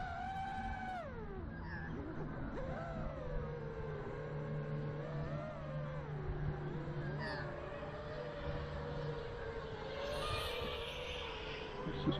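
An Eachine Wizard X220 V2 racing drone whines through slow flight, its tonal motor pitch steadily rising and falling as the throttle changes, with a constant faint hum throughout and no talk.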